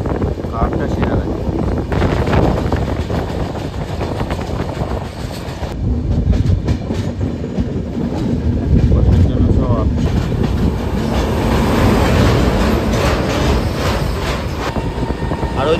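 The Uttarbanga Express runs along the rails with a loud, continuous rumble and rhythmic wheel clatter, and wind buffets the microphone throughout.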